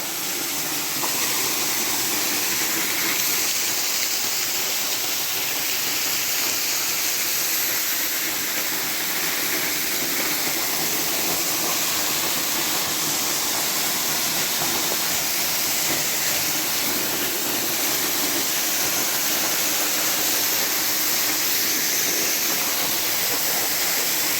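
A waterfall on the North Sylamore Creek trail, heard up close from behind the falling water as a loud, steady, broadband roar and hiss that never lets up, with no voices.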